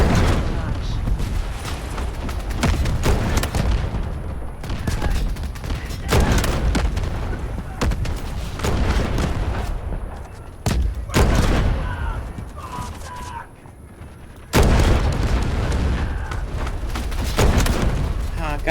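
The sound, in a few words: artillery barrage in Delta Force Hawk Ops video game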